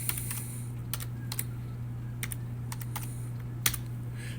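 Light, irregular clicking of a computer keyboard as a word is typed, with scattered keystrokes spread across the clip over a steady low electrical hum.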